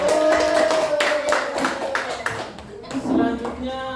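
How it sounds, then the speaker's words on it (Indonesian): Schoolchildren in a grade 5 classroom clap for a group that has just finished its presentation, a quick run of close, sharp claps while a voice speaks over them throughout. "Tepuk tangan untuk kelompok."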